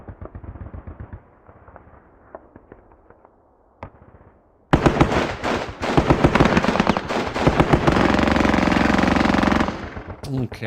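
Machine guns in the Squad Battles Eagles Strike war game burst into sustained, loud rapid fire after a quieter stretch of softer scattered shots, hammering continuously for about five seconds before cutting off.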